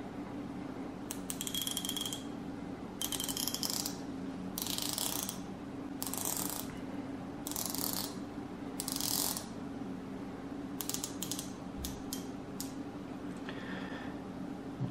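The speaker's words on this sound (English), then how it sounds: "So my first gripe is the bezel and the bezel movement. It's not very smooth," Bezel of a Steinhart Ocean Vintage Military watch turned in repeated short bursts, each a quick run of crisp, close ratcheting clicks separated by brief pauses, ending in a few isolated clicks.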